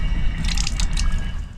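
Water running from the tap of a train toilet sink, a close splashing trickle with light dripping over the low rumble of the moving train.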